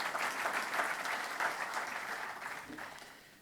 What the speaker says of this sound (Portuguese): Portanto, um aplauso para eles